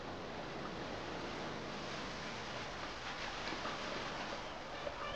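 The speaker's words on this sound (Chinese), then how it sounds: "终于找到了猫儿山深处的三层岩瀑布" Sanceng Rock waterfall deep in Mao'er Mountain, a continuous broad rush of falling water at an even, moderate level with no voices.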